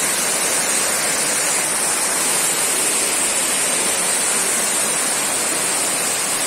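A waterfall, a steady dense rush of falling water that stays constant and loud, heard alone without voices.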